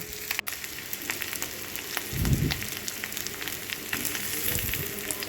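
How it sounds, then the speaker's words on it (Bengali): Potatoes fry in oil with onion, green chili and spices in a pan, a steady close sizzle with soft crackles and a brief stirring scrape, no voices. "আলুগুলো ভালো করে তেলের মধ্যে আর এই পেঁয়াজ কাঁচা লঙ্কা সব মশলাগুলোর সঙ্গে ভালো করে ভেজে নেব"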